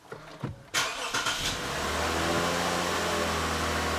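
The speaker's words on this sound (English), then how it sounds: "I just want to make sure the engine starts and runs" A 2014 Lexus IS250 engine cranks briefly, catches with a sharp burst and then settles into a steady close idle, with a few clicks and knocks just before it starts.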